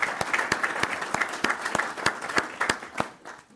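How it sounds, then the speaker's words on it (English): Attendees at a regular board meeting give a round of applause, a few sharp, distinct claps over softer scattered clapping that fades toward the end, near and moderate in volume, with no speech over it. "I just want all of you to just join with me in giving her a great big round of applause."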